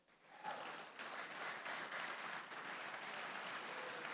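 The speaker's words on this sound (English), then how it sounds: "Give applause to them." Steady applause from a crowd at a Mobile Legends esports grand final, clapping blending into a continuous wash that rises quickly and holds at an even level throughout.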